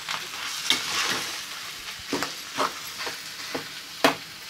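Rawa dosa batter with coriander leaves being stirred and mixed in a bowl, giving soft, wet scraping strokes in an irregular rhythm, close and fairly quiet with no talking.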